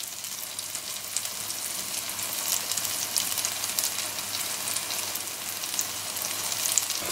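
Mini tomato omelettes fry in a pan, a steady close crackling sizzle that continues evenly throughout without any talking.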